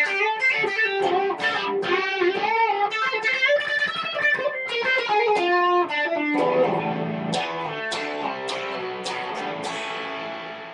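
A Telecaster electric guitar through a Vypyr amp's distorted channel plays a run of fuzzy, buzzy notes and chords, loud and up front, then lets the last chord ring out and fade.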